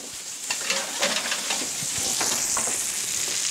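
Stuffed pork chops sizzle in a hot pan, a steady, close frying hiss with scattered pops and crackles and some light scraping throughout.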